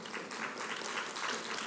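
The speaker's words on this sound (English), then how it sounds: "Please, a round of applause for our partner message coming up right now." Sustained audience applause at a youth event, a dense broadband wash of many hands clapping at steady loudness throughout with no break.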